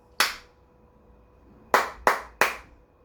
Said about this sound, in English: that way you can hear the claps